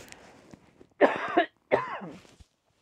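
Two short, harsh coughs in a row, close and loud, with brief quiet before and between them.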